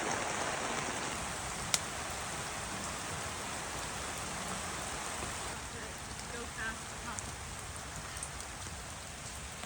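Steady rain falls and patters on surfaces nearby, a constant dense hiss with a sharp click near the start and faint voices far in the background.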